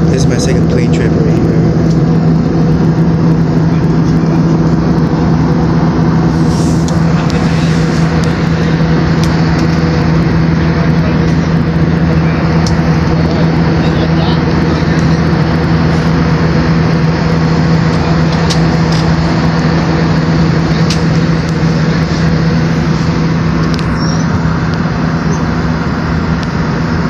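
Steady, loud cabin drone inside a passenger airplane in flight to New York, a constant low engine hum with a strong tonal band underneath, continuous and unchanging throughout.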